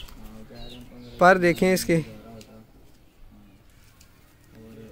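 A pigeon coos softly and low in the background while someone talks over it at close range.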